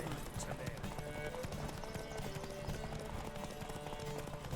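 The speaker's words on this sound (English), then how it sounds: "I was expecting more stamina out of this horse" Rapid rhythmic hoofbeats of a galloping horse in the video game The Witcher 3: Wild Hunt, steady clip-clop throughout under game sounds and quiet background music.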